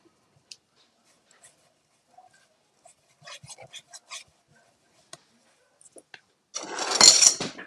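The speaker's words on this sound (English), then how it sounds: "There's a dog on TV barking." Dog barking from a television in a home craft room, a short loud burst near the end after quiet clinks and small tapping sounds.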